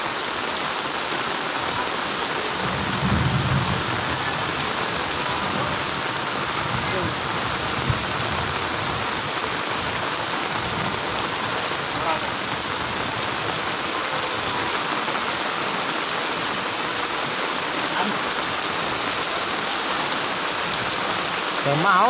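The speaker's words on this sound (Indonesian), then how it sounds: "Untuk kencang hujan ini." Heavy rain pours steadily onto surfaces during a flood in Cilegon, a loud dense hiss that never lets up, with faint low rumbles underneath and muffled voices in the background.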